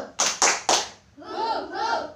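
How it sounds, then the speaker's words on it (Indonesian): A primary school class performs a rhythmic clapping chant, three sharp, loud claps in quick succession followed by children's voices chanting together. "Oke, tepuk semangat."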